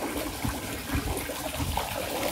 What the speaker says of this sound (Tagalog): Parang dinadaanan na ng tubig.